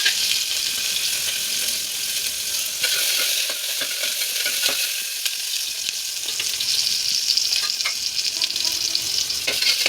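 Coconut, small shallots and garlic fry in a pan, with a loud, continuous crackling sizzle that runs steadily throughout, broken only by a few stirring clicks.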